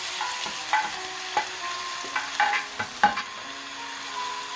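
Beef goes into a hot pan for Filipino caldereta and is stirred, with a loud steady sizzle broken by sharp scraping and clattering strokes of the spoon against the pan, close up and with no voices.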